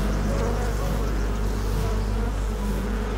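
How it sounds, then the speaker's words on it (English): A dense, continuous buzz of many honeybees swarming close by, steady and loud throughout with no other sounds. "You can just see all these bees here. The noise, again, is tremendous."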